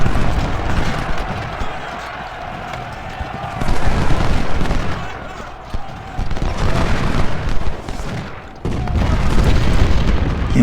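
Cannon booms and crackling musket volleys roll through a Civil War battle at First Bull Run in a strategy game, with the Union artillery battery driven back. The heavy blasts come in dense waves, loud and continuous, easing briefly before surging again.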